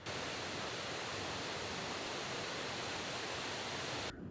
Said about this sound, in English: the sound of that river running, it's like thunder going past